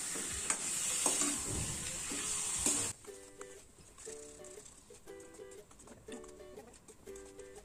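Chicken meat stirred and frying in a pan for a curry with raw banana and jackfruit seeds, a close, crackling sizzle for about three seconds before dropping to a quieter background with faint intermittent tones.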